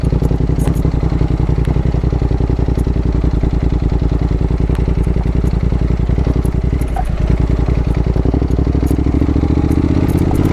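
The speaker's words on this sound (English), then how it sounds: "thank God that this is a nice low revving engine and you can just tractor up stuff like that" Honda NC750X motorcycle climbing a rugged hill in first gear, a loud, low, rapid engine thump at steady revs, close and continuous throughout with a brief dip midway.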